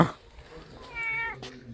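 A tomcat at home gives a single drawn-out meow, fairly close, in a room with low background noise and faint household sounds around it.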